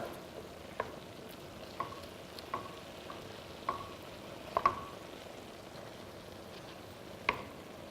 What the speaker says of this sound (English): Now we're going to give this another stir.